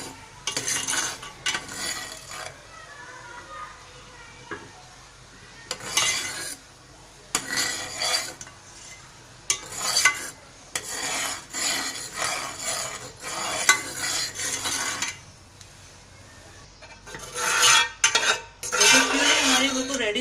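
A spoon scrapes and clinks around a pan of thickening homemade tomato ketchup, coming in repeated bursts of stirring with brief pauses between them, close and clear over a faint sizzle.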